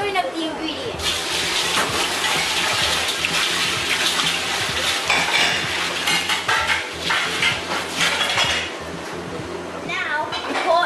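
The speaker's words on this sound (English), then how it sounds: "And now we are adding the water before we put." Water pours into pizza dough ingredients in a busy pizzeria kitchen at Paisano's, a steady gushing splash mixed with clattering dishes and utensils, while a person talks over it.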